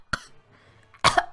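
A voice imitates a cough, two short harsh bursts about a second apart, close and fairly loud.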